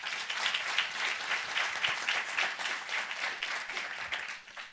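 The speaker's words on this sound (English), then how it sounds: "So give yourself a round of applause." Audience members at a talk on Asian Americans in hip hop clap together in a warm, even round of applause that holds steady and eases off slightly at the end, fairly soft overall.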